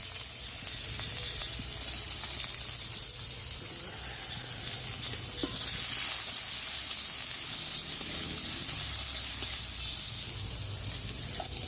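Panch phoron and chopped onion frying in oil for a fish curry, a dense, loud, continuous close sizzle and hiss with no pauses and no talking.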